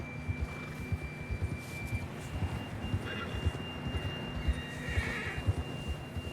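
In the Red Dead Redemption 2 video game, a horse gives a whinny over a low, rhythmic thudding of hooves. The sound is fairly quiet and steady, with no talking.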